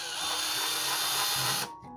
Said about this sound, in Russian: Сверлим очень аккуратно.